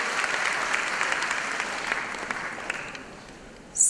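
A crowd claps steadily during a speech at a school back-to-school event, the dense clapping continuing evenly before thinning out toward the end, with a brief burst of noise at the very close.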